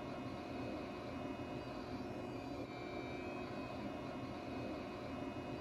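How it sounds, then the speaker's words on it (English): A DC motor powered by a Eurotherm SSD 590A digital DC drive during repair testing runs with a steady, continuous hum and whine at an even level, with no pauses. "Now, we have our motor running."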